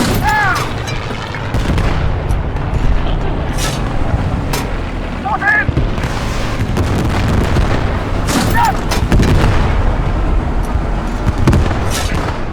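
High-explosive artillery rounds fire repeatedly in Squad 44, heavy booming blasts recurring every few seconds over a dense rumbling battlefield din, with voices talking throughout.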